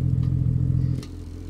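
A car fitted with an ANTZ exhaust and VAREX muffler idles with a loud, throbbing low drone that drops abruptly to a quieter, softer rumble as the valve closes partway through.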